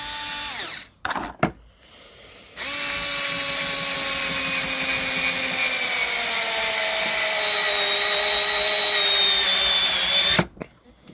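A cheap budget cordless screwdriver drives a screw into wood, its motor whining in a steady, loud, near drone for about eight seconds after a few short starts, then cutting off abruptly.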